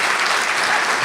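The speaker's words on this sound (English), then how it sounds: "thank you for your applause and all that stuff" Continuous crowd applause at a fireside chat with a state attorney general, a steady dense wash of clapping from the audience filling the whole moment without a break.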